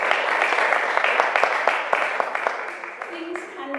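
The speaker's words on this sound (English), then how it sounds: "Let's give them a round of applause." Applause from an audience at a Christmas Day gathering, a steady patter of many hands clapping that fades toward the end, with a voice speaking over it.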